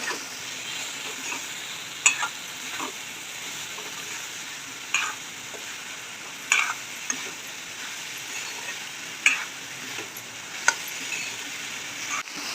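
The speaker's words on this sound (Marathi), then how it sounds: "कारेली आणि चण्याची डाळ टाकून मी छान प्रकारे मिक्स करून घेतलेली आहे" Chopped bitter gourd stir-fries with chana dal in a pan, a quiet, continuous sizzle broken every few seconds by a spatula knock against the pan.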